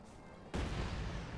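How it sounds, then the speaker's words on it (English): High-explosive artillery shells explode in the video game Company of Heroes 2. A sudden heavy blast bursts out of a low battle rumble, and a loud, roaring wash of noise lingers after it. "high explosive shells here, but these boys here are dodging those explosions like there was no tomorrow"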